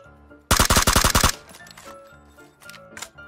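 A rapid burst of video game gunfire, about seven loud close shots in a fast automatic rhythm, then quieter in-game clatter and faint distant pops afterward.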